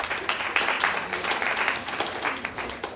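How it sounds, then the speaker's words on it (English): A crowd of pre-law and mock trial students at a lecture event breaks into steady applause, a dense, even wash of many hands clapping for several seconds. "Pre-law students, give yourselves a round of applause."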